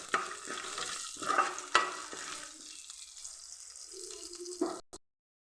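Peanuts and crushed onions fry in a pan with a steady close sizzle, broken by a few sharp stirring scrapes before the sound drops away.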